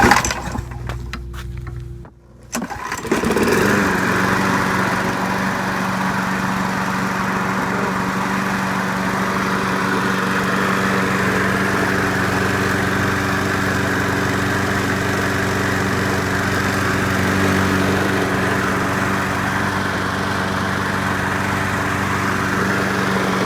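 Craftsman Platinum 6.75 EZ Walk self-propelled lawn mower pull-started after a brief rattle of the cord, catching quickly and then running at a steady, loud, even idle with a constant buzzing drone and no talk.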